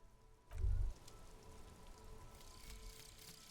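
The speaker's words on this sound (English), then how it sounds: "This rain will not let up anytime soon." Rain falling in the game Disco Elysium, a soft continuous patter of drops on surfaces at low volume, with a brief dull low thump near the start.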